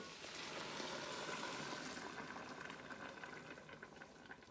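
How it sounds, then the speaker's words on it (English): Mushroom broth poured into a cooking pot with sweet potato, a steady, close rushing and splashing of liquid that fades slightly toward the end. "So now we will pour the broth in here."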